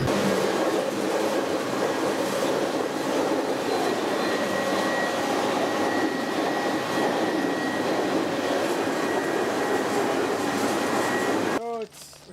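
Cargo train rumbling steadily past at close range in Saskatchewan, heard from inside a grain car, a dense continuous roar with rail clatter that cuts off abruptly near the end.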